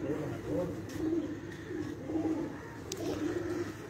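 Pigeons coo steadily on a rooftop in Mianwali, a continuous low rolling burble from several birds close by, with faint background noise throughout.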